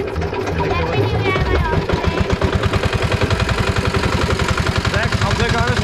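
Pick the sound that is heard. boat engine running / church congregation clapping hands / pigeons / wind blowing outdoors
boat engine running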